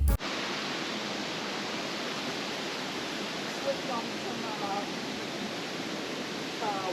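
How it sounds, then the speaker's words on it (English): A waterfall on Glendale Brook running at low flow gives a steady, broad rushing wash that stays even throughout, close and continuous, with no voices. "Here we are looking towards the crest of the falls."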